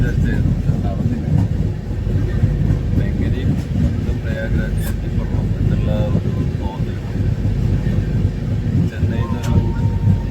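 Steady low rumble and wind-like roar inside a moving passenger train travelling to Prayagraj for the Maha Kumbh, running continuously beneath someone talking close to the microphone.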